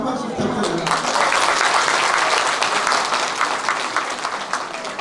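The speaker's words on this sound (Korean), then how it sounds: "다시 한번 큰 박수 부탁드립니다" A crowd gathered outdoors for the opening ceremony of a county folk percussion competition and ssireum wrestling festival claps loudly and steadily for several seconds, with faint voices mixed into the applause.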